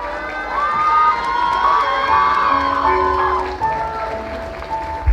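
A crowd at a quinceañera party cheers and whoops with bright shouted voices and children's cries, a lively, fairly loud swell of celebration lasting several seconds, with only light clapping mixed in.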